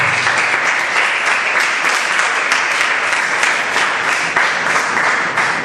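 A church congregation applauds for Jesus during a sermon, a dense, loud wash of many hands clapping that holds steady and unbroken throughout.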